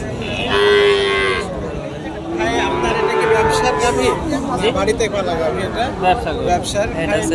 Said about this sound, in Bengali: যে গরুটা আমরা দেখাচ্ছি এটা হচ্ছে গাভী গরু অস্ট্রেলিয়া বাচ্চা সহ।